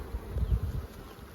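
A dense, steady drone of honey bees buzzing around an open hive during an inspection, loud and close, with the wings' hum throbbing slightly and no talk over it.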